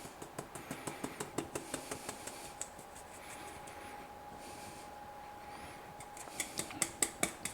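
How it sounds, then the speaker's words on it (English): Flour, salt and dry ingredients for peanut butter cookies are sifted, giving a steady run of soft rhythmic taps and shakes from the sifter, close and fairly quiet, with no talking. "All right, then we're gonna sift that through."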